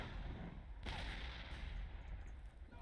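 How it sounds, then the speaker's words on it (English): Mortar and artillery fire in the World War I game Warfare 1917, booming blasts over a rumbling battlefield background, with one sharp loud impact near the middle. "Let's go ahead and start calling in mortars here too."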